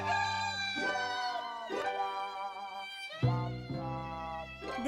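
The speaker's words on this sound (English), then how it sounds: "they heard the crow of an old rooster from somewhere." An old rooster in a cartoon telling of the Bremen Town Musicians crows in long, drawn-out, sad-sounding calls, several phrases in a row, clear and fairly quiet with a melodic rise and fall.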